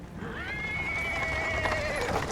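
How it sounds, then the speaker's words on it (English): A horse in Pathfinder Wrath of the Righteous lets out one long, quavering whinny close by, with hoof clops on a paved street underneath. "Horses?"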